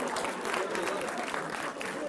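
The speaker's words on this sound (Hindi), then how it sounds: "अरे आप लोग ताली बजा रहे हैं" An audience at a televised Hindi political debate claps steadily, a dense, continuous wash of applause from a large crowd that fills the whole moment at fairly high volume.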